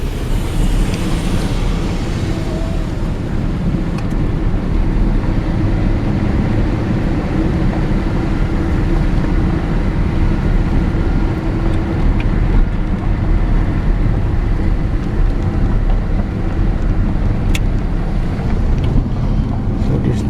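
Vehicle driving out along a mountain canyon road with the window down, heard as a steady, loud low rumble of engine and road noise mixed with wind buffeting across the whole stretch, with no talking.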